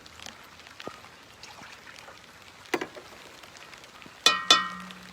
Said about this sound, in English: If I had more rain in this bowl, it might sound a little bit different.